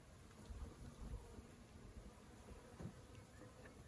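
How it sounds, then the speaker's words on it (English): Bees buzz among plants in a home garden in early spring, a soft steady hum that stays low and distant, with faint outdoor ambience and no voices. "the bees are loving this."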